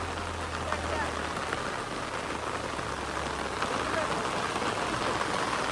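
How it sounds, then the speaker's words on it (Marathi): Rain falls in a steady, moderate patter, a continuous wash of drops heard without clear voices on top. "पाऊस पण आला तेवढ्यात"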